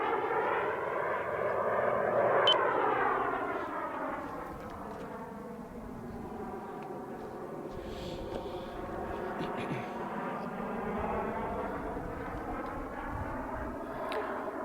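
A Krill ARES twin-engine RC jet flies past with a steady, loud turbine roar and a whistle that rises and falls in pitch as it passes, sweeping through several times.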